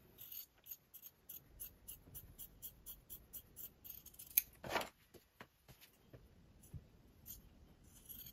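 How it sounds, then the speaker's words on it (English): Scissors cut through fabric for a bread bag in a quick series of soft, rhythmic snips. The cuts are close but quiet, with a few brief pauses and no talking. "I will actually just cut right into this here and cut down this side."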